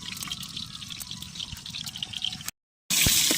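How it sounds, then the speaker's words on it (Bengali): Running water splashes steadily while meat is being washed, a close, hissy, continuous flow with small drips, briefly cut to silence before resuming louder. "মাংসটাকে ওয়াশ করে নেওয়া হচ্ছে"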